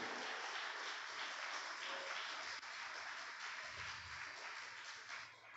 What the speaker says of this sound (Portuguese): Dá um aplauso a Deus de novo aí por isso